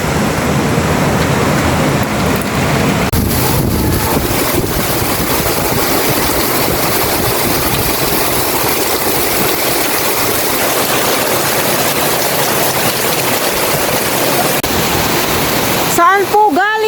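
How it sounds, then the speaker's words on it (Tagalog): Powerful wind rushes without pause, a dense roaring wash battering the microphone, with a short voice breaking in at the end. "Ang lakas po ng hangin, sobra."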